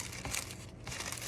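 Dollar Tree plastic shrink wrap crinkles steadily while being handled, a close, continuous rustle with brief louder crackles, no voices.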